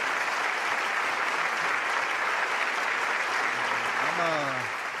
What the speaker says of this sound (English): Please join me in offering another warm round of applause to express our gratitude to President Buhari.